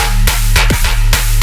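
Heavy tearout dubstep bass from a Serum synthesizer pattern generator: loud, dense growling synth hits in choppy rhythmic bursts with pitch-sweeping wobbles over a deep sub bass, no voices.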